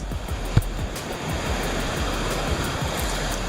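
Sea waves washing onto a crowded beach in the evening, a constant roar of surf with a brief louder thump near the start, steady and fairly loud with no talking.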